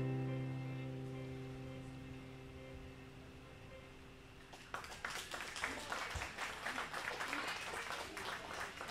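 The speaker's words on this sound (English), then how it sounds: "thank you guys for being so nice and clapping" A crowd applauds at a live music show, the clapping bursting in halfway through as a held guitar chord rings out, then continuing moderately and close.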